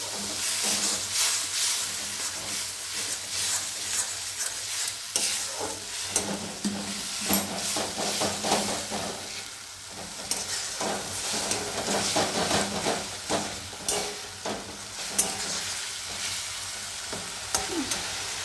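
Spice masala for tinda curry frying in oil in a pan, a constant close sizzle with scraping stirs and occasional spatter pops throughout, no talking.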